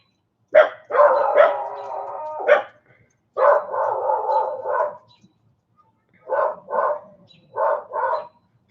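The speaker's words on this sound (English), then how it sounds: "She's not a wiener dog. She's a beagle." A beagle barks and bays in several loud, close bursts, with long drawn-out howling yowls early on, then shorter paired barks separated by brief pauses.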